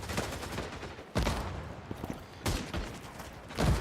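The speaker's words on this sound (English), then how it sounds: "So try the grenade launcher." A grenade launcher fired in the Cold War shooter game '83, with three heavy, booming discharges spaced about a second apart, each trailing off into a rumbling tail against continuous game noise.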